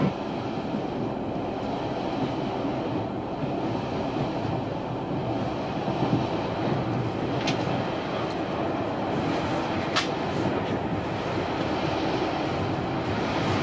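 A train runs along with a continuous broad, rushing rumble, steady and moderately quiet, with a couple of brief high squeals cutting through.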